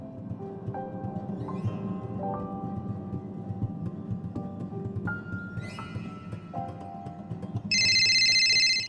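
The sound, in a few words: private telephone ringing, sound effect in audio drama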